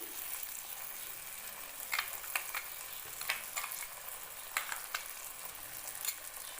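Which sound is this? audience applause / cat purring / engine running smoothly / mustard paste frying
mustard paste frying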